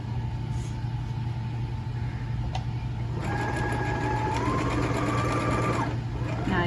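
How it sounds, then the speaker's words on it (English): A sewing machine back stitching over earlier stitching on a quilted tote seam, a steady close mechanical hum and rapid needle chatter, with a rising whine as it speeds up and a low background drone. "Now you have to meet up with your previous stitching and just back stitch on top of that stitching."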